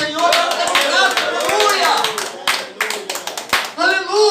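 Clapping hands in a church service praising the Lord, sharp irregular claps scattered under a preacher's lively speech and shouted exclamations, close and fairly loud.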